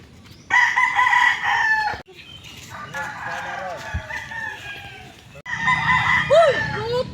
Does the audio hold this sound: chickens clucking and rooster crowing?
yes